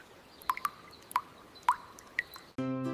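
A tap drips water in slow, irregular single drops, each a clear, close plop against a quiet background, four or five drops before a louder steady tone cuts in at the end.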